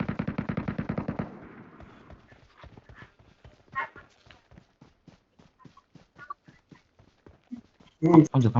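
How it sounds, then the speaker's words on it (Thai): Gunfire in the Metro Royale video game, a rapid burst of automatic shots at the start, then scattered single cracks and short volleys, close and sharp, with another loud burst near the end. "ตัวสไนกำลังเล็งกำลังยิงผมอยู่"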